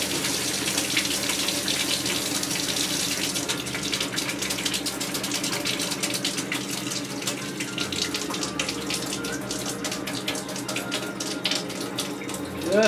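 Fresh water gushes from a boat's tap as air is bled from the plumbing, a steady loud splashing rush that turns sputtery and uneven partway through, with brief spurts as the air clears.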